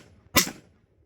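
A single unsuppressed shot cracks from an MK18 short-barreled rifle, a sharp loud bang with a short decaying tail, then near silence.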